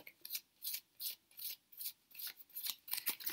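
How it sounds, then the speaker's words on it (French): Tarot cards being shuffled by hand, a rapid run of regular papery riffling strokes, close and fairly quiet, with no talking. "Alors vous mélangez les cartes restantes."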